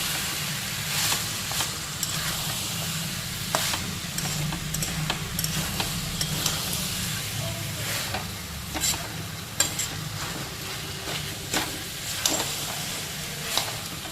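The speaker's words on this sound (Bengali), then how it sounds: "কষানো হচ্ছে, একটু ভালো করে কষিয়ে" Rajma curry being stirred and sautéed in a pan, a steady sizzle with frequent sharp scrapes and clacks of a spoon against the metal, close and continuous throughout, no voices.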